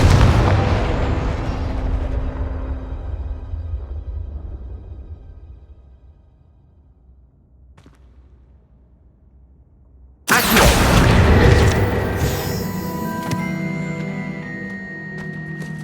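A Confringo explosion spell from the video game Hogwarts Legacy bursts suddenly and loudly after a quiet stretch, a sharp blast followed by a dense, ringing roar that lingers to the end.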